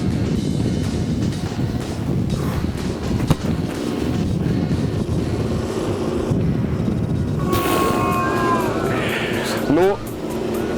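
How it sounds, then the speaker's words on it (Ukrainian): Heavy wind buffets the microphone in a continuous low rumble, with a person speaking and faint chirpy tones breaking through toward the end. "Вітер! Ну вітер."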